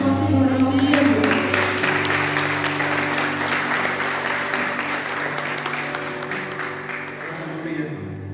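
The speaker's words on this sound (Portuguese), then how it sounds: "Aplauda o Senhor em nome de Jesus" A church congregation applauds during a Portuguese-language worship service: sustained, dense clapping under steady held music tones, loudest at the start and easing slightly before ending.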